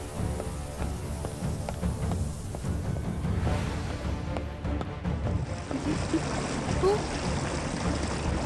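Flood water flows through a cave in an animated children's adventure, a steady, fairly loud rushing and trickling that fills the whole clip with no pauses.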